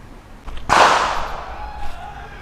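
A Turkish Niksan Desert Eagle Mini blank gun fired once in a test, a single sharp loud crack with a ringing decay, preceded by faint clicks.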